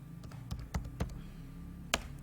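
A few keys are struck on a computer keyboard while a router SSH command is entered, sparse crisp clicks spread irregularly, with one sharper tap near the end, close and alone.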